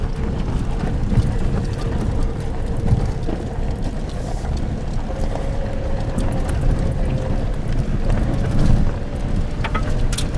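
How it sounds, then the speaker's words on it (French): Wind buffets an open spot on a bay near Mirabello, a rough continuous rumble with gusts swelling and easing, a faint engine-like tone threading through at times. "c'est presque toujours venteux."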